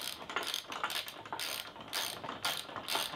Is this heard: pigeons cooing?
no